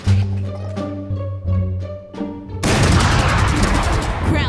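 Gunfire from the shooter game Valorant comes as a string of loud, punchy shots with ringing tonal tails, then a dense, sustained burst of rapid firing that fills the rest of the moment.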